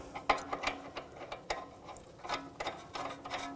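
A nut is turned onto the bolt of a front strut assembly on a 2007–2013 BMW X5, giving close ratcheting clicks and metallic scraping in an uneven rhythm.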